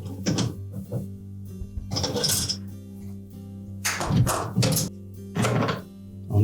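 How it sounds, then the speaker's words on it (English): A ratchet tightening screws inside a Whirlpool dishwasher during an inlet seal repair, short bursts of clicking and metallic turning separated by pauses, close and fairly quiet over a low steady hum. "And then we'll tighten it with the ratchet."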